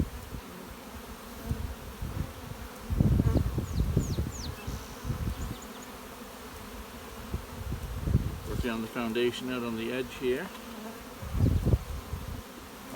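Honey bees from an opened bottom hive colony buzz steadily through the background, with a few brief higher whines, while someone speaks nearby over the hum.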